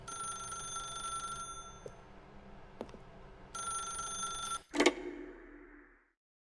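Telephone ringing in the video game The Stanley Parable: Ultra Deluxe, a faint electronic bell trilling in two long bursts with a clatter near the end as it stops, no voices.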